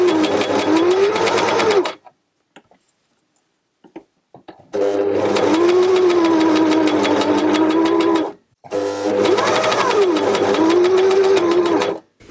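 A Necchi NC10 coverstitch sewing machine hems a knit sleeve in three loud, steady whirring runs. Short pauses fall between the runs, and the needle speed rises and falls slightly during each one.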